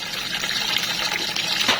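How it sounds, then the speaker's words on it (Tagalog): Water gushes into a cooking pot holding salted native chicken for sinampaluka, a close, continuous splashing pour that swells slightly near the end. "Ayan, lalagyan na natin ng tubig."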